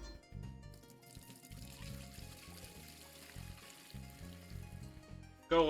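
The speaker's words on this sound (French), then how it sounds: "On va rajouter un peu d'eau là-dedans." Water pours and trickles steadily into an aquarium tank in a fish-store simulation game, with a thin liquid splash, accompanied by rhythmic low synthetic game music, ending in a brief bright chime.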